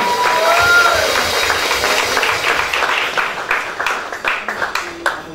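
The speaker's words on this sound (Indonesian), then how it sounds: "berikan tepuk tangan kemuliaan bagi Tuhan Yesus yang paling kencang" A church congregation at a Sunday morning service applauds together, a dense, loud wash of clapping that fills the room and breaks into more distinct claps toward the end.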